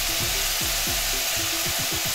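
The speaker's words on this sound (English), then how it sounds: "That is sizzling. Seriously sizzling." Lamb asun for Nigerian small chops sizzles hard in a hot pan, a loud continuous crackling fry broken by repeated scraping sweeps of stirring.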